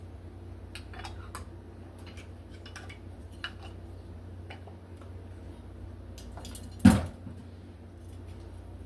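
Metal canning lids set onto glass jars of homemade fresh-tomato marinara, giving faint scattered light clinks over a low room hum, then one sharp, louder clink near the end.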